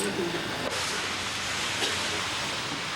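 Oil frying and chunjang black bean paste stir-frying in a Chinese restaurant kitchen, a loud, continuous sizzling hiss that fills the whole stretch without pause.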